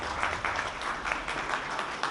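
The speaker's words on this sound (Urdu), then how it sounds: "ان سب ساتھیوں کے لیے بہت سے تالیاں." Dense, steady audience applause at a book launch and short film event, many hands clapping continuously at moderate distance without a break.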